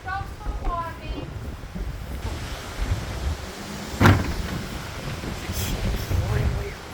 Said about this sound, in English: Extremely fucking windy.